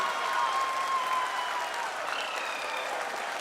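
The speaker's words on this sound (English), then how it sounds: "People are applauding." Crowd applauding the Chandrayaan lander touchdown on the Moon, a dense steady roar of clapping throughout with a faint tone and whistle-like cheer above it.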